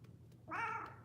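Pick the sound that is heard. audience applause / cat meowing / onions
cat meowing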